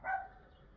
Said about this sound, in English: Dogs have not shut up all day.